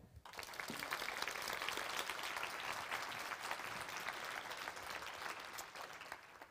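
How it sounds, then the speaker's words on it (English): Audience applause at a women's conference in Sofia fills the room, a dense steady roar of many hands clapping that keeps going without a break. "So may I have your strongest applause for them."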